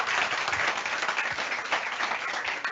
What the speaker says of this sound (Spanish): agradecemos al panel que vino con nosotros hoy con un gran aplauso